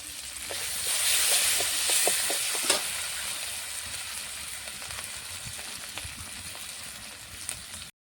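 Fig, potato and eggplant fry with turmeric in hot oil as they are stirred. The steady sizzle rises loudest early on, broken by scraping stir strokes and small pops, with no voices.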